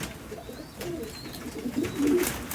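A male Amritsari Lal pigeon, over two years old, gives soft low cooing phrases, close by and rising toward the end, against a faint background hiss.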